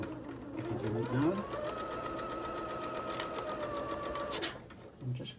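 Domestic sewing machine stitching fabric for a quilt block, a fast steady mechanical whirr running for about three seconds between brief pauses, with a person talking softly around it.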